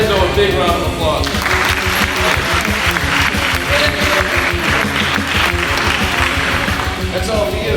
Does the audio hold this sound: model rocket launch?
no